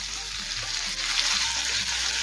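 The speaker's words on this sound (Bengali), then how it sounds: "পোস্তটা একটু কষিয়ে নেব এই আলু পটলের সাথে" Poppy seed paste fries with potato and pointed gourd in a pan for a Bengali prawn dish, a close, steady hiss of sizzling oil with soft stirring underneath.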